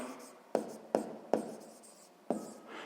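A pen writing out a sixth-grade math exercise, with four distinct sharp taps of the pen on paper set apart by soft scratching strokes, close and quiet and heard alone.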